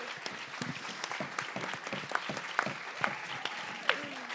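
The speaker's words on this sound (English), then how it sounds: "round of applause for Joe" Audience applause at an Edinburgh Fringe 2014 comedy show, continuous clapping from a crowd with a few sharper claps standing out, fairly quiet and distant.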